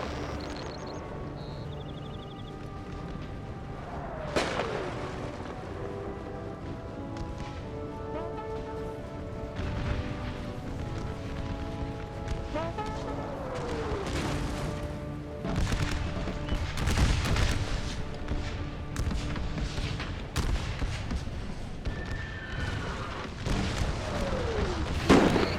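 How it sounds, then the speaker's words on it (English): Napoleon: Total War American Civil War mod battle with artillery booming repeatedly, some cannon shots sharp and near, others distant, over a steady din of musketry and battlefield noise. "Artillery hell."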